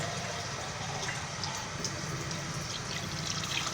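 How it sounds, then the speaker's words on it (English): Water pours steadily into a cooking pot to cover a duck in a kitchen, a continuous close splashing rush with faint drips and no talk. "I'm gonna cover the duck with some water now, like that."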